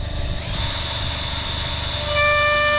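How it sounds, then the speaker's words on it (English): A cordless drill running on a very low torque setting while working on a Rover 75 gives off a steady mechanical whir with a rising high whine, close and continuous, and grows a little louder near the end. "I've got the drill on very low torque setting"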